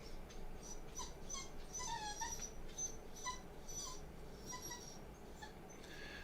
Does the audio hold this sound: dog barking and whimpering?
yes